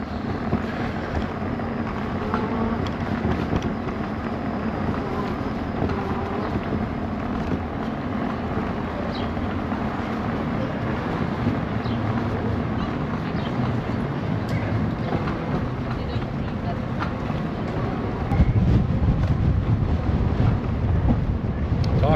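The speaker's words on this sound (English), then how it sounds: "Talk about a wind tunnel. Holy, I'm getting blown around." Strong wind buffets the microphone along Toronto's lakeshore near Queens Quay, a steady roaring rumble throughout that swells louder near the end, with no speech over it.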